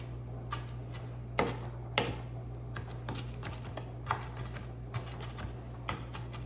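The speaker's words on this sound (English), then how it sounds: "keep pressing down with the knife, and that kind of just chops it up" A knife chops cherry tomatoes on a cutting board with a quick, irregular run of sharp taps, quiet and close, over a steady low hum.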